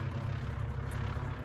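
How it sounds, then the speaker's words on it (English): A low-flying training airplane passes overhead above rural Ontario backroads, a steady loud engine drone with strong low rumble filling the whole moment without pause. "That is the plane."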